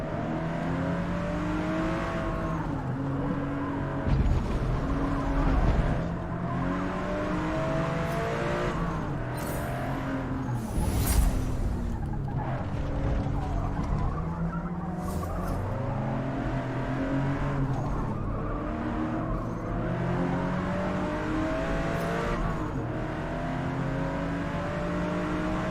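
Racing cars in Forza Motorsport (2023), including an NSX, rev hard through a final lap. Layered engine whines rise and fall steadily across the track, with brief tire squeals and skids breaking through now and then.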